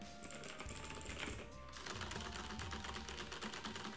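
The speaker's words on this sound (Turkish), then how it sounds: "İki klavye arasındaki en bariz fark bu ses farkı." Rapid clicky keystrokes patter steadily on a Razer BlackWidow TE or Logitech G710+ mechanical keyboard, close and continuous, with no voices.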